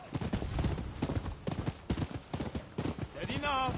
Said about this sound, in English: Oh, I can summon my horse.